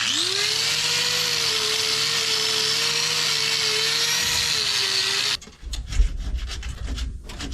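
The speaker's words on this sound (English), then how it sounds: "I'm going to take my wire wheel and kind of clean up around it" A wire wheel grinds around the differential cover of a Plymouth Fury, a steady harsh whirring abrasion held for about five seconds before cutting off into scattered clatter and handling noise.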